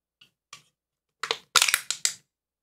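A video game's fall-damage effect for a character's ankles: a sharp crunching, cracking burst in several quick clustered snaps after two faint ticks, dry and close, with no voices.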